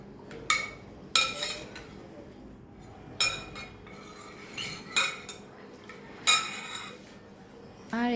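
Metal spoon clinks and scrapes against a pan as boiled sabudana is stirred into hot milk, several sharp clinks spaced across a quiet kitchen background.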